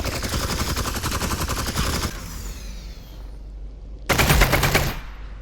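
Rapid automatic gunfire in Half-Life: Alyx while fighting a Suppressor soldier, a dense loud burst for about two seconds, a quieter gap, then another loud burst of fire.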